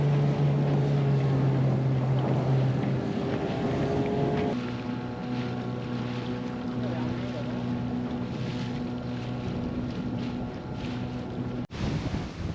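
A sailboat's dinghy motoring toward a beach on Barbuda, its outboard droning steadily with a pitch shift partway through, and wind buffeting the microphone throughout.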